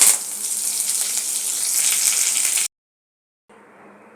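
Mustard seeds, cumin, asafoetida and curry leaves hit hot oil with a bright, steady hissing sizzle up close, then the sound cuts out briefly and returns softer.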